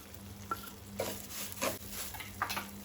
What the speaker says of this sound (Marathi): पळयात आतां रवो आमचो भाजत आयला, तूप सुटपाक लागला रव्याक